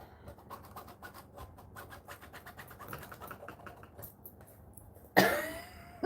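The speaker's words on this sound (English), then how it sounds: "My cough is not better." A single sharp, loud cough bursts out near the end after several seconds of soft tapping and rustling close by.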